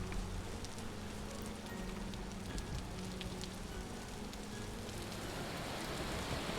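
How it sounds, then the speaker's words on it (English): Hail pelting down in the survival game Vintage Story, a dense steady hiss of countless small impacts like heavy rain on a hard surface, continuous and loud throughout with no talking. "Oh, and now it's hailing."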